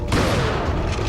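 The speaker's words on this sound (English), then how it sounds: "I'm wasting a lot of shotgun rounds." A shotgun fires in the PS2 video game Resident Evil 4, giving one loud, dense blast that fills the short moment with no talking.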